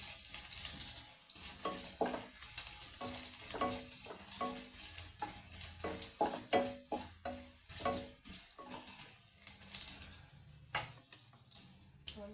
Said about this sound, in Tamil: பூண்டு நல்லா வதங்கினதுக்கு அப்புறமா வெங்காயம் சேர்த்துக்கலாம்